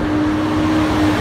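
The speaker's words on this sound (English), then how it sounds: "that truck is loud." Loud, steady roar of a truck engine rumbling close by in street traffic, continuous throughout.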